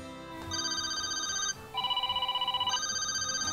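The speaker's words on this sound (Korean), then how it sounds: "이거는 그냥 전화기의 소리잖아요" A Samsung Galaxy phone ringtone plays as clear, bright electronic tones. The pitch steps between a few sustained notes, with a short pause near the middle and a quick pulsing rhythm toward the end.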